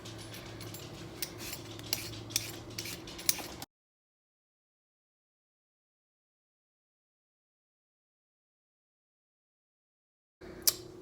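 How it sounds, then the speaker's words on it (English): Potatoes and carrots being peeled for a beef stew: a few seconds of brisk, quiet scraping strokes with light clicks, then a long silence and a brief return of scraping at the end. "I'm going to peel both my carrots and my potatoes."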